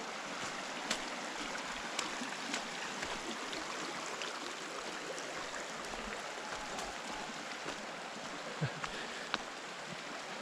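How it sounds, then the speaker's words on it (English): Avery Creek in North Carolina flowing through woods, a steady broadband rush of moving water close by, continuous and even throughout with a few faint clicks and no voices. "Here's Avery Creek."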